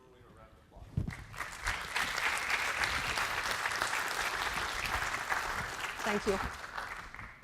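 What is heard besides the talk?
audience applauding a keynote speaker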